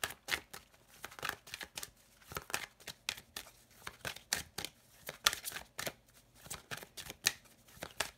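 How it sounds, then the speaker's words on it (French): A deck of oracle cards is shuffled and drawn by hand, with repeated crisp riffling bursts and card snaps in an uneven rhythm, close and fairly quiet, with no talk. "je vais tirer mes cartes de l'oracle des ombres à part."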